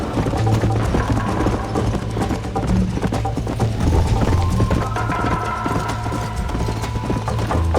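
Steady rapid horse hoofbeats clip-clop throughout in Red Dead Redemption, loud and close, over a dense layer of game music and background noise.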